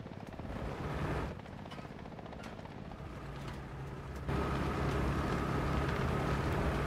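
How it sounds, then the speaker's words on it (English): A helicopter in War Thunder thrums faintly with a low, rhythmic rotor chop that persists throughout and steps up louder partway through, mixed with distant engine rumble. "We have a helicopter."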